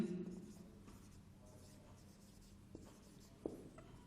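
Pen writing a probability formula during a maths lesson, faint scratchy strokes in short bursts with a sharper tap near the end, quiet and close, under a brief voice at the start.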